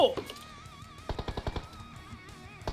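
Rapid bursts of automatic gunfire in the battle royale mobile game PUBG Mobile, a short volley of cracking shots in quick succession after an opening blip, with no speech over it.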